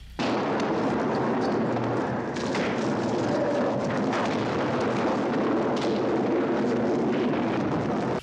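Dense, roaring film explosions made with compressed air and rumbling blasts fill the whole stretch, loud and continuous with no pauses or voices.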